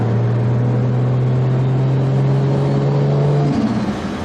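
A Toyota Supra engine with an automatic transmission holds a steady, loud drone, then its pitch shifts as it slowly downshifts, with no voices.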